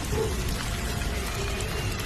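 Soft, steady patter of rain falling continuously, fairly faint and even, with no speech or other sounds standing out.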